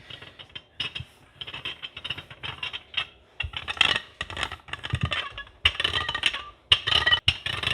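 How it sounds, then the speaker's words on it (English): Vegan pop tart dough rolled out with a rolling pin on a floured surface, giving repeated close scraping, rubbing and creaking strokes in an uneven rhythm. "I went ahead and dusted some flour, and I'm going to roll it out."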